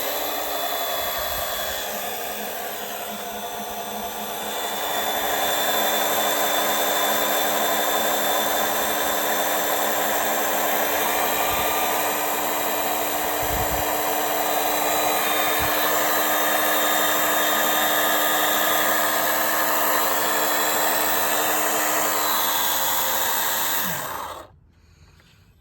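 Pump sucking oil out of a Subaru Forester engine during an oil change, a steady loud whirring drone that holds for over twenty seconds, with a few faint knocks, then cuts off abruptly.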